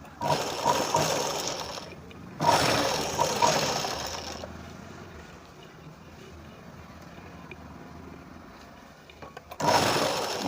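A sewing machine stitches the shoulder seam of a Punjabi dress in two or three rapid whirring bursts separated by quiet pauses, fairly close, with handling sounds between runs.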